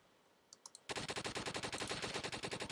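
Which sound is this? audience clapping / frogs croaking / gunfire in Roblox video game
gunfire in Roblox video game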